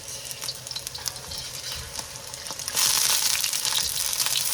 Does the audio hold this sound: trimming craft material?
no